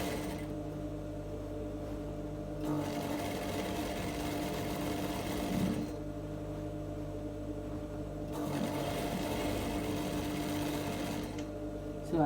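A sewing machine double-stitches the side seams of a women's straight-leg trouser in three bursts of rapid, buzzing mechanical stitching, separated by short quieter pauses, close up.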